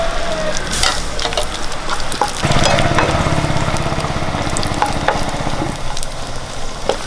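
Raisins fry in hot oil for egg biryani, giving a loud, continuous close-up sizzle and bubbling with occasional stirring scrapes throughout.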